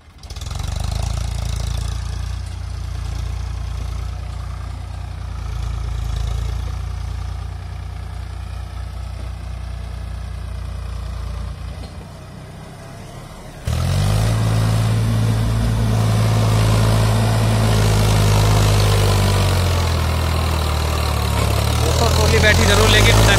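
A loud Eicher tractor engine drones and strains pulling an overloaded trolley of wet load, then roars harder with a deeper, heavier pull as the load is hauled; voices are faintly audible.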